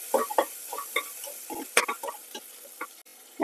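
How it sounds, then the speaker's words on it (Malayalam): Crushed ginger, garlic and green chillies fry in hot ghee while a spoon stirs them briskly, producing quick scraping clicks over a close, crackling sizzle. "നെയ്യ് ചൂടായിട്ടുണ്ട് ഒരു അര ടീസ്പൂൺ ഇഞ്ചി ചതച്ചതിട്ട് കൊടുക്കാം ഒരു കാൽ ടീസ്പൂൺ വെളുത്തുള്ളി ചതച്ചതിട്ട് കൊടുക്കാം"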